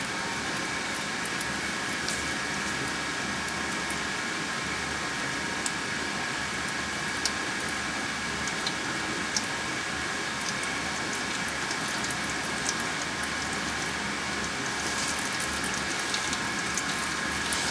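Transmission fluid draining slowly from a car, a steady, soft liquid trickle and patter under a constant hiss, faint and unbroken with occasional small ticks.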